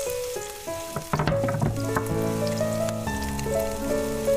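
Onion sizzles in hot oil in a pan as chicken with vegetables is started, a steady crackling fry heard beneath background music.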